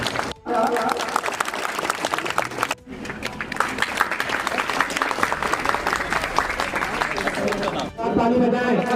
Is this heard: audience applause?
yes